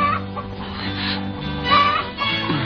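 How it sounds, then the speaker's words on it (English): A chicken clucks and squawks close up in a few short, choppy calls with a strained, nasal tone, heard without any talking over it. "See if you can tell when the chicken gets it."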